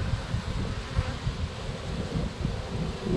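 Bees buzz in a steady, dense drone close by, with a soft rustling hum and no talking.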